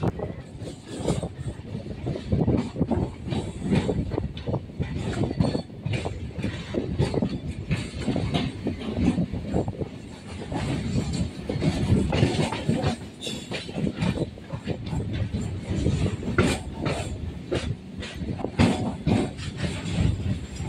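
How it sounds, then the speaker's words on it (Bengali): A Kanchanjunga Express train rumbles past on the neighbouring track on the Sealdah to Barrackpore line, a steady close roar of wheels and carriages with clickety-clack joints running the whole time, with no voices. "ওই যে ডান দিক থেকে আর একটি এক্সপ্রেস ট্রেন বেরিয়ে যাচ্ছে, ওই ট্রেনটি হলো কাঞ্চনজঙ্ঘা এক্সপ্রেস"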